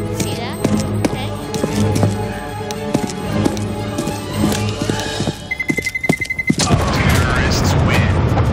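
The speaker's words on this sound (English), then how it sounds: "Did he just really get killed by his own bomb?" Bomb explosion in the game CS:GO, a sudden heavy boom that swells into a loud, sustained rumble after a rapid beeping countdown, amid gunfire and game effects.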